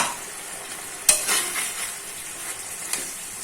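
Fried potatoes are stirred in a pan after a little water is added, a soft sizzle with a sharp scrape of the spatula, then gentle scraping and a light clink.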